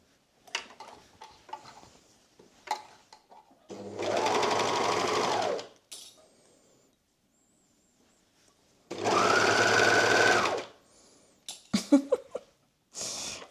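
A sewing machine stitches sweater fabric in two sustained loud runs of rapid whirring, separated by quiet pauses filled with small handling clicks and taps.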